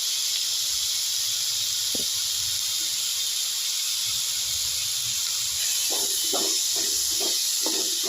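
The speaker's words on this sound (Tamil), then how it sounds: "நல்லா தக்காளி வெங்காயம் வத்தல் எல்லாம் அப்படியே வதங்கணும்" Tomato, onion and dried red chilies sauté in a pan for a spicy chutney, giving a steady close sizzling hiss throughout, with a few soft stirring knocks toward the end.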